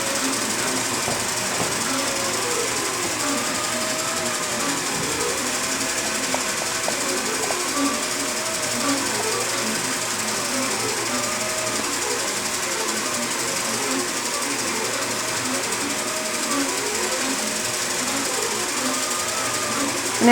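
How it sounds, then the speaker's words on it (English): An IntelliQuilter computerized quilting machine stitching a pantograph pattern, a steady rapid mechanical needle chatter with a faint hum that holds evenly, moderately close, throughout. "Now when I start it, it's just going to start stitching."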